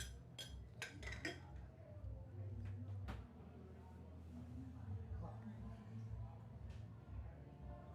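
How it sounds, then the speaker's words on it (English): Glasses clink at a lawn bowls club's mixed triples championship final, with a quick run of light chinks in the opening seconds over steady crowd murmur and people talking. "Those glasses you just heard clinking, they must have been come from outside."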